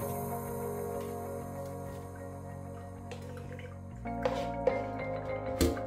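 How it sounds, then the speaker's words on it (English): Excess water squeezed from cooked spinach drips and trickles, faint and close, with a few louder splashes near the end and no talk. "I always remove the excess water from the spinach to make it more palatable"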